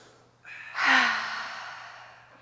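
One deep breath during a restorative yoga class for the menstrual phase: a soft intake, then a long audible sigh of an exhale that fades out gradually, close and alone.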